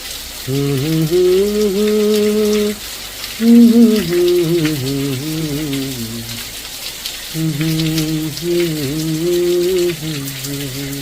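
Rain patters as a steady hiss throughout, heard under a voice singing in Hindi over music.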